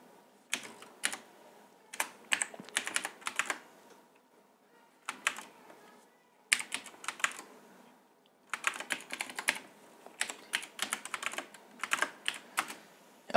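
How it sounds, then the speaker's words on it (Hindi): Typing on a computer keyboard in accounting software, quick bursts of close, crisp key clicks separated by short pauses, quiet and alone. "इसका GST नंबर यहाँ पे टाइप करेंगे"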